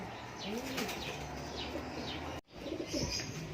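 Pigeons, including a racing bird, coo and flutter nearby in a busy outdoor setting, with soft repeated coos and wing flaps, a brief gap, then more cooing and chirps amid background clatter.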